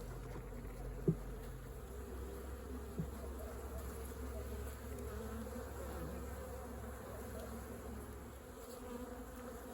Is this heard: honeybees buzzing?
yes